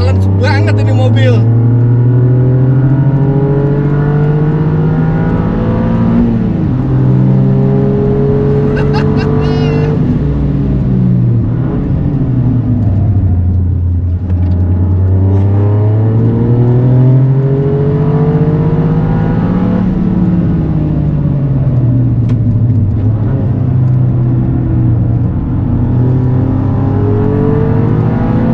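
A Toyota GR Yaris accelerates around the Mandalika race circuit, its engine droning loud and close from inside the cabin, pitch rising and falling through gear changes and revs, while someone talks over it.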